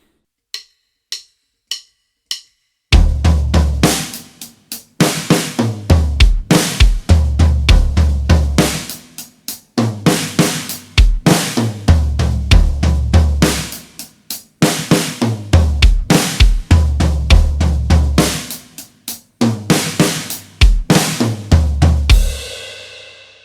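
A drum kit plays a slow halftime groove at 100 BPM, heavy kick and snare hits with cymbals, after a few sparse opening clicks; steady, loud and close.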